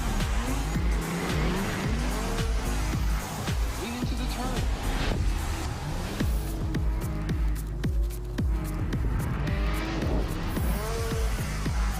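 Rotax karts race around a track, engines whining loud and continuous with tire squeal and skidding throughout, several machines close together over the full stretch.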